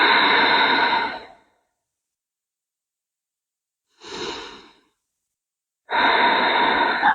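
Three slow, deep breaths taken during a gentle hatha yoga session on a mat: a long audible breath, a shorter softer one after a pause, then another long full breath, close and alone with silence between.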